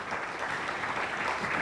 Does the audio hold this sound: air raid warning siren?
no